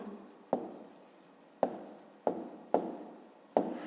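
A pen writes five-digit numbers on paper for a fifth-grade maths exercise, giving five sharp, close scratching strokes at uneven intervals in a quiet room.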